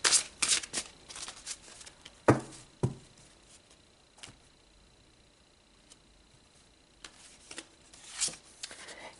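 Tarot cards are shuffled and handled up close in quick riffling bursts, with scattered soft taps and pauses of near silence between them.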